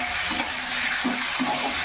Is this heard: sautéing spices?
yes